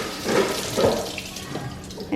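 Tap water runs into a kitchen sink to wet a dirty pan before scrubbing, a steady close splashing stream lasting about two seconds with no talk over it.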